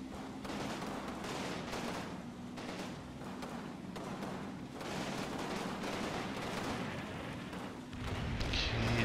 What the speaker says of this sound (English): The artillery's still coming in.